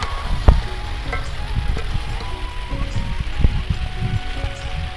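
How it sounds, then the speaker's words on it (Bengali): Desi chicken frying in oil for a Bengali curry gives off a dense, continuous sizzle and crackle, close and fairly loud, with a couple of soft knocks from stirring and no talk. "আর এত সুন্দর কষানো হচ্ছে দেখুন, নিজে পুরো একদম তেল ছেড়ে গেছে"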